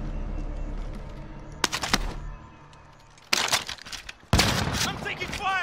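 Gunfire erupts in Call of Duty: Modern Warfare, with a short burst of shots, a quiet gap, then two louder sharp volleys, alongside voices from players in the match.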